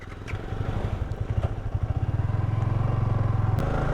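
A Yamaha R15 V3 motorcycle pulls away and accelerates on a road ride, its engine rising from a choppy putter into a loud, steady drone close by.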